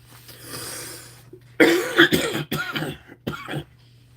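A person coughs harshly several times in a close, raspy series, followed by throat clearing, with no talking.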